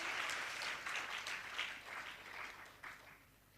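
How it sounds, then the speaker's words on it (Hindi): Audience applause at a Hindu devotional Ramkatha discourse, a steady patter of many hands clapping that stays fairly soft and thins out toward the end. "तालियां बड़ी कमजोर है"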